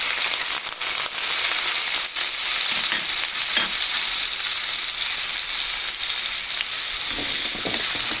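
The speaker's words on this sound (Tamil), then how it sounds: "கடுகு உளுத்தம் பருப்பு லைட்டாக பொரியட்டும்." Mustard seeds and urad dal fry in hot oil for a purple cabbage poriyal, with a loud, continuous close sizzle and scattered popping crackles throughout.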